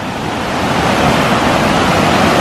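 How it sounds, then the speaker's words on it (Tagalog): Strong waves roar in a steady, loud, continuous wash of rushing water with no pauses, heard close by in western Norway. "Lakas ng alon."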